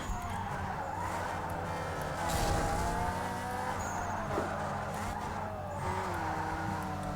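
A race car engine in Need for Speed Underground 2 drifting drones steadily while tires squeal and skid, loud and continuous throughout.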